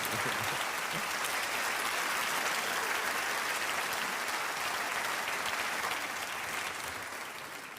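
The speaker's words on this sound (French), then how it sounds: "On peut les applaudir" Steady, dense audience applause for two participants on a stage show, sustained and even for several seconds before easing off slightly at the end.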